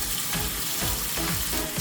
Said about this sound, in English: Add a small amount of oil into the pan, just enough to sear the meat.